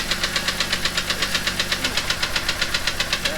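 A Jeep 4.0L straight-six engine running with no oil pan knocks steadily, with a fast, even train of sharp clatters over a rough mechanical idle, close and loud.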